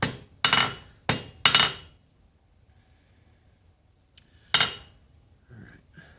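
Three quick hammer blows land in a cluster near the start, followed by a pause and one more strike later. A 5.5 pound rounding hammer is forging a silver ring, and each impact rings with a bright metallic clang.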